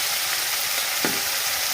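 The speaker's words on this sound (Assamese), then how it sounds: "গোটেইখিনি মিক্স কৰি ভাজি লওঁ। লগতে আলু কেইপিচো দি দিওঁ।" Eel and potato pieces fry together in a kadai, a dense, loud, continuous sizzle that holds steady throughout with one brief soft knock near the middle and no voices.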